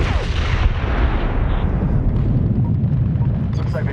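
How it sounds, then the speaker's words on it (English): An airstrike bomb explosion in the Medal of Honor: Tier 1 mission 'Breaking Bagram': a loud, deep, rolling blast that rumbles continuously and dominates throughout, slowly thinning in its upper crackle. "Neptune bombs away."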